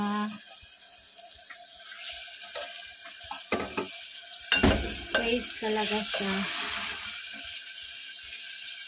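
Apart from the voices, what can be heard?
water being poured into cooking pot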